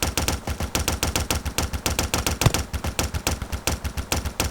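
Rapid rhythmic bursts of automatic gunfire from an armored train's mounted turret in the Roblox game Edward the Man-Eating Train, loud and close, firing steadily throughout.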